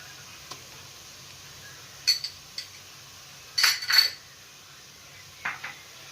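A spoon stirring crushed ginger and garlic in a pan for Kerala chicken mappas, a few sparse metallic clinks and scrapes against the pan, close and quiet with no talk.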